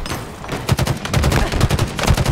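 Rapid bursts of gunfire from a Halo Infinite Big Team Battle Stockpile match on Thunderhead, a dense, loud volley of overlapping shots pulsing steadily throughout.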